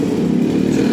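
Motorcycle engine riding along a flooded, pothole-damaged street in Karachi after rain, a loud close buzzing drone that stays steady through the whole short stretch with no speech.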